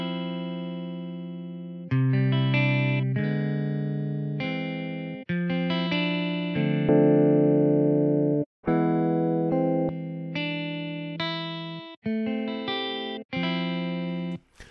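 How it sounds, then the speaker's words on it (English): Electric guitar through amp simulator distortion plays a series of sustained, gritty chords, each ringing out before the next, loud and alone. "the difference is it sounds like it's going through an amp. It adds some distortion"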